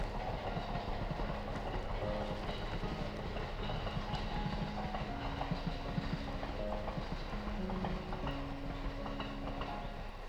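A train on the Narita Line rolls past at a distance, its wheels giving a steady, rhythmic clatter over the rails beneath a low rumble.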